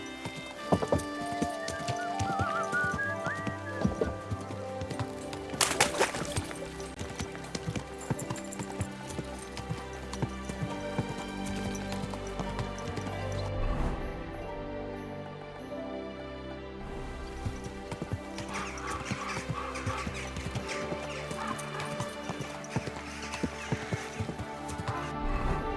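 Horse hooves clip-clop rhythmically in the medieval game Kingdom Come: Deliverance II, moderately faint beneath layered music and ambience, with a brief whinny-like sound amid the steady gait.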